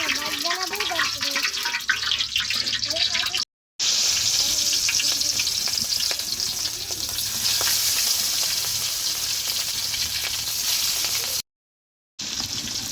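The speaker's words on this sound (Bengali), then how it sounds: "জাস্ট হালকা ভাজা আর কি। উল্টাই দাও," Hilsa fish frying lightly in oil, giving a steady sizzle with crackles and stirring sounds; people talk over it at the start and the sound drops out briefly twice.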